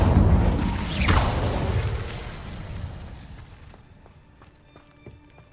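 A fire spell cast in the Hogwarts Legacy video game, a loud whooshing, rumbling burst at the start that slowly fades over several seconds into faint clicks and tones.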